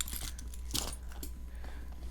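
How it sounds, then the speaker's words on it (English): Keys jangle in short metallic clinks as they are pulled out of a Dooney & Bourke Florentine leather handbag, close and quiet with no talking. "Let's go ahead and take my keys out of there."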